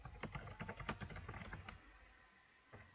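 Rapid clicking keystrokes on a computer keyboard while writing Android Java code, a dense burst of taps that thins out, then one last isolated click, close and fairly quiet.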